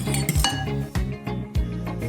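A utensil clinking against a bowl while egg is mixed into a doughnut dough mixture, giving a series of rhythmic clinks and scrapes, close and fairly quiet.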